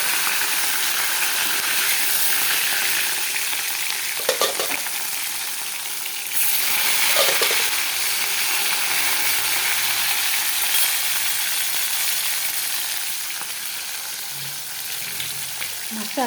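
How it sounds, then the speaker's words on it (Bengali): Fish slowly frying in a pan at home for lunch, a continuous loud crackling sizzle that runs unbroken, with a few soft clinks and stirring sounds and no voices over it. "মাছটা আস্তে আস্তে ভাজা হচ্ছে"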